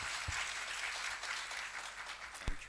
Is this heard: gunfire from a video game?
no